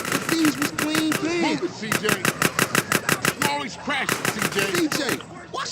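Rapid bursts of automatic gunfire in the video game GTA San Andreas crackle in rhythmic volleys with short pauses, loud and close, while voices talk over the shooting.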